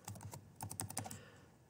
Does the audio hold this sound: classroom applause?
no